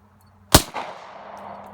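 A single sharp Glock 20 pistol shot cracks out loud and close, followed by a decaying echo and room noise, with no voices during it.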